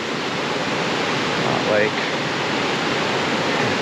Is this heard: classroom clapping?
no